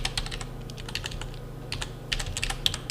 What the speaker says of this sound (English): So if you draw your text box and you type there